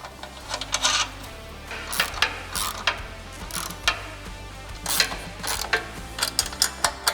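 Ratchet wrench tightening 15mm head bolts on a hidden winch skid mount during a Ford Bronco install, a run of close, sharp clicking bursts in irregular rhythm over a low steady hum.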